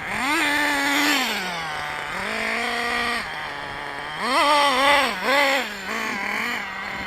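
Electric motor from a converted donor car whining at about half throttle, a steady tonal hum whose pitch steps up and down repeatedly, close and fairly loud with no talk.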